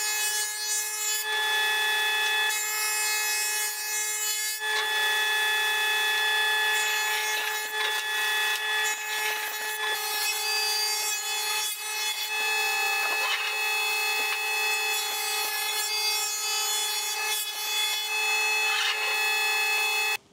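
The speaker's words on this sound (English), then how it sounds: "we've just been through the overhand and or the planer, whatever you want to call it" A wood planer, also called an overhand, feeds timber boards for a DIY barn door build, giving a loud steady whine with strong tonal hum and continuous cutting noise throughout, no talking.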